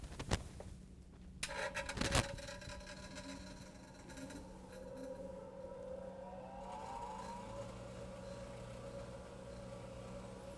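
A grinder on a machine monitored for vibration faults runs as a steady, low, humming whir under faint tonal machinery noise, with a couple of sharp clicks near the start and no talk.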